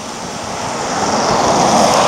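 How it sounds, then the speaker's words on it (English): A small waterfall about 20 miles south of Anchorage, Alaska, gives a steady broadband rush of falling water that swells slightly louder toward the end, with no voices. "This is like 20 miles south of Anchorage. Pretty neat little waterfall."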